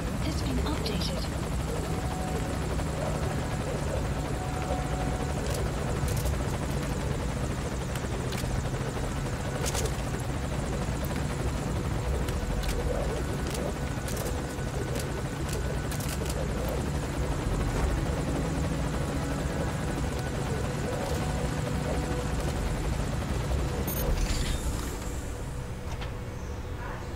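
Helicopter in the video game Metal Gear Solid V: Ground Zeroes, a continuous loud rotor roar with a rhythmic chop that holds steady and eases slightly at the end, with voices talking under it.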